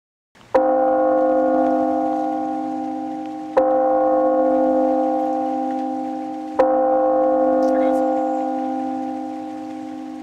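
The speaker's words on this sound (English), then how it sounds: "The bell is rung." A church bell tolls three times at roughly three-second intervals, each strike loud and resonant with a long, slowly fading hum of overtones that carries into the next stroke.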